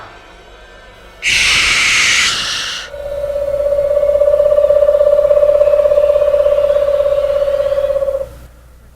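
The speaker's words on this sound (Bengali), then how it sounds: "কাল পেঁচা।" A loud breathy whoosh, then a long steady hooting tone from an owl held for several seconds, clear and close, ending abruptly, in a horror story reading.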